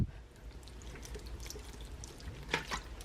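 Water trickles and drips from a reusable drinking bottle onto a potted houseplant, faint and close, ending with a brief splashing burst near the end.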